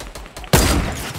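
A sudden burst of Fortnite gunfire cracks out after half a second of quieter background, loud and sharp, then trails off.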